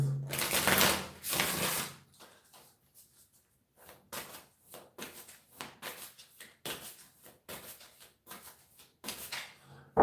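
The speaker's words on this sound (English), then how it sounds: "Just get a really good shuffle with this." Tarot cards being shuffled by hand: a loud riffling burst near the start, then a series of short, quick card snaps and flicks at close range, with no talking.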